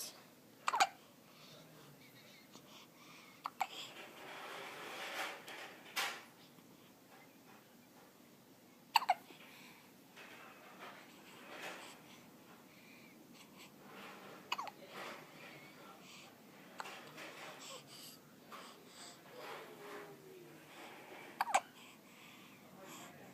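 A baby hiccups several times at irregular intervals, each hiccup a short, sharp, fairly close sound standing out over quiet room noise, with a sneeze-like burst among them.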